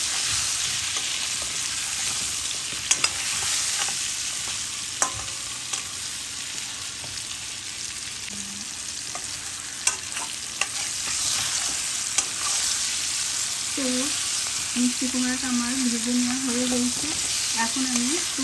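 Pumpkin pieces frying in hot oil with a little turmeric for a Bengali labra vegetable curry, a steady broadband sizzle throughout with occasional clinks of a spatula against the pan.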